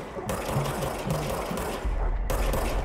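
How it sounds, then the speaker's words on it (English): Rapid, dense gunfire from the service weapon in the video game Control, continuous loud bursts that fill the whole stretch with a brief dip near the end, with no talk. "Fire service weapon."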